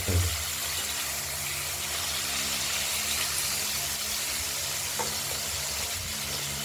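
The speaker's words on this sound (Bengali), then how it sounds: "আমরা পিস করে ধুয়ে নুন হলুদ মাখিয়ে কড়াই আগেই গরম হয়ে গিয়েছিল, আমরা কড়াইতে ভেজে নেব।" Katla fish pieces coated in salt and turmeric frying in a hot wok, giving a steady, loud hiss of sizzling oil that holds evenly throughout with no one talking.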